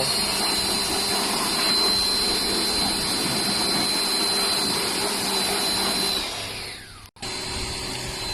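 Steady loud spray washing of the front air conditioner evaporator box on a Mitsubishi Pajero Sport, a dense continuous hiss with a high whine that drops away near the end, followed by a brief cutoff.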